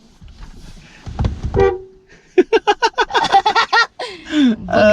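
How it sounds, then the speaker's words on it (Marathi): A jeep's horn honks in a rapid series of short loud toots on a mountain road in Ladakh near Khardung La, with voices and laughter before and after. "मी हॉर्न वाजवला"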